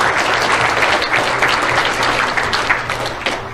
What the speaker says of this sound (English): And give her another applause.